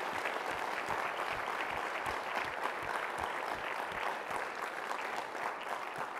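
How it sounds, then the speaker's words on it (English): Steady, dense applause from a seated audience at a film festival screening fills the whole stretch at an even, sustained level with no talk over it. "give one more round of applause for everybody"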